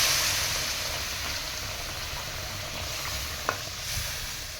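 A pan of mustard hilsa fish curry comes to a boil with a steady, close hiss and bubbling, broken by one sharp click partway through.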